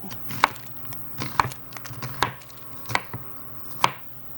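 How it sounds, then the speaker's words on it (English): Knife chopping squash on a cutting board in a home kitchen, five sharp separate thuds at an uneven, unhurried pace, close and clear with no talk. "So I'm just going to chop this up real quick."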